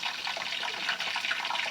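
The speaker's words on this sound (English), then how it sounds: "Now all I'm going to do is just pour in the gravy." Gravy pouring into a pan of pepper steak, a continuous liquid splashing and trickling for under two seconds, fairly close and moderately quiet, with no talk.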